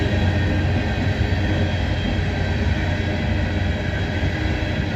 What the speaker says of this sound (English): The SCWX coal train.